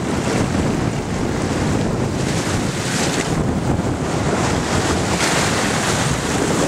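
Ocean waves wash continuously onto a beach, a loud, broad rushing surf mixed with heavy wind buffeting the microphone, with no voices.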